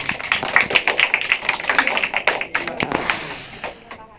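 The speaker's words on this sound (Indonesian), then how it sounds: "beri tepuk tangan ke kelompok yang mendapat kopi" A small group of students in a classroom microteaching session claps for a team, irregular sharp claps at moderate loudness that thin out and fade toward the end.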